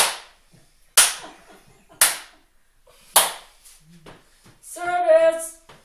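A few sharp hand claps spaced about a second apart, loud and close, keeping time with a children's sing-along song, with a brief sung or spoken phrase near the end.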